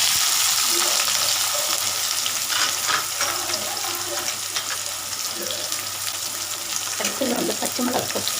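Onions hiss and crackle as they fry in oil in a pan for a lotus stem gravy, a loud, steady close sizzle with some stirring clatter toward the end.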